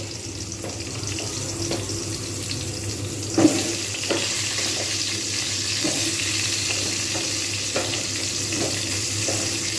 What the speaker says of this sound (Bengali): এই তেলেতেই আমি এবারে পটল দিয়ে দেবো পটলগুলো কিন্তু আমি ভালোভাবে লালচে করে ভেজে নেব